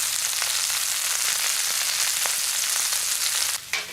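Halved Brussels sprouts and onion sizzle loudly and steadily on a Solo Stove Mesa, with a brief dip in the crackle near the end.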